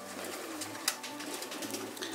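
Racing pigeons coo in a loft, a steady low murmuring of several birds mixed with soft rustling and a brief flutter, heard at moderate distance without talk.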